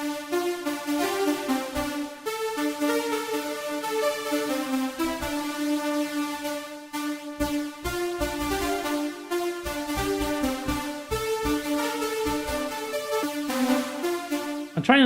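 A dense synth lead plays a busy, bright melodic line with rapid rhythmic notes and thick layered tones, steady and fairly loud throughout without any voice.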